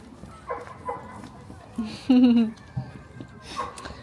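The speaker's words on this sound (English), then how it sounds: "They have been barking quite a lot at other dogs" Small dogs giving a few short yips and barks, close by and fairly quiet, with a brief higher whine in the middle amid household sounds.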